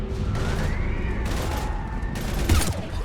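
Heavy gunfire rattles through a firefight in the video game Mass Effect 3, a dense continuous fusillade of shots with booms and mechanical clatter, loud and sustained throughout with rising intensity near the end.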